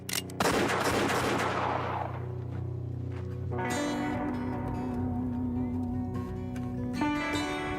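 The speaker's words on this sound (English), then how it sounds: "how's if I just shoot you then, eh?" Gunfire in a film scene opens with a loud, sharp blast that decays into a long rumbling tail, followed by sustained dramatic music with sharp accents and no talk.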